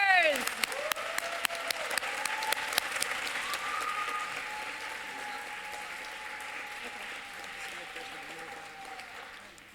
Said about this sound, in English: Let's give a big round of applause to our 9 to 10 speakers.